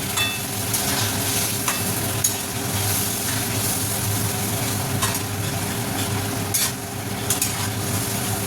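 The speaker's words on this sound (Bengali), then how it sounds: "জলটা দিয়ে একটু ফুটতে দেবো পটলটা" Pointed gourd (potol) cooks in a pan after water is added, giving a steady close sizzle and bubbling with occasional scraping stirs of a utensil.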